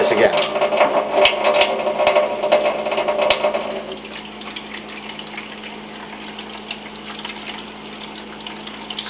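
Water runs steadily through a groundwater flow demonstration model, louder and gushing at first, then settling into a quieter continuous trickle with a low mechanical hum beneath.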